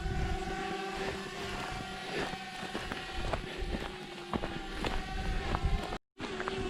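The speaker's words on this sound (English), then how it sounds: "There goes the drone." Camera drone buzzing away during a countryside walk on the Kinlet Estate, a steady whirring drone over wind and footsteps, fairly faint and constant, cutting out briefly near the end.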